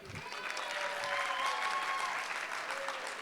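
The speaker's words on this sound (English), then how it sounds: "They give her a round of applause." Sustained applause at a charity gala auction fills a large room, a smooth roar of clapping and crowd noise with faint tonal voices and a whistle-like tone running through it.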